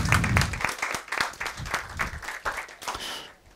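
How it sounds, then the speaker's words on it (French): Audience in a church gathering clapping after a talk, a burst of distinct individual claps with uneven rhythm that thins out and fades away by the end. "je crois qu'on peut les applaudir et vous pouvez vous applaudir"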